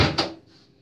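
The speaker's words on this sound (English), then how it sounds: "I'm doing recording, so I'll close the door" A door in a home pushed shut, one short solid knock of the closing thud followed by a brief fading rattle, close and fairly loud with nothing else around it.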